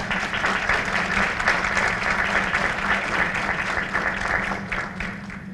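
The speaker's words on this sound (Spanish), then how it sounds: "Un aplauso, por favor." An audience at a municipal strengthening forum applauds a speaker, dense sustained clapping from many people, loud and even, fading slightly toward the close.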